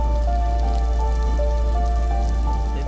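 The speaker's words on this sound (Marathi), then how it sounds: "पाऊस चालू आहे, झोपाय जागा नाही," Rain falling on a protesters' camp at Azad Maidan in Mumbai, a steady close patter of drops on a surface over a low hum and faint tonal background noise.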